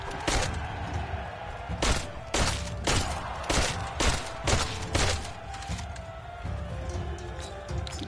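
Rapid bursts of gunfire in the video game Tails of Iron crack in quick succession, a steady volley of sharp shots with short gaps, loud and close.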